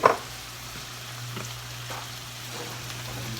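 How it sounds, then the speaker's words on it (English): Tomatoes just added to a pan for ghost pepper sauce cook over medium heat with a soft, even, rain-like sizzle after a brief clatter at the start, with no talking and a low steady hum underneath. "I'm going to add the tomatoes right in on top of that."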